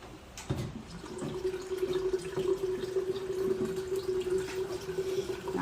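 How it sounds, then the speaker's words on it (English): Water runs from a tap into a pitcher being filled for Kool-Aid punch, a steady, fairly quiet splashing stream with a faint rising tone as the level climbs. "I'm going to fill a pitcher"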